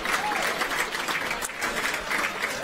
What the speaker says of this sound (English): deserves a heartfelt round of applause